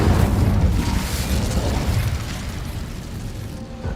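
A fire spell blast in the Hogwarts Legacy video game, heard as a loud, continuous roaring rumble with crackling that stays heavy throughout and eases slightly toward the end.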